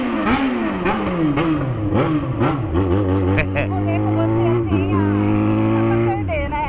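An XJ6 motorcycle engine revs up and down in quick bursts, then settles into a steady, throaty idle close by.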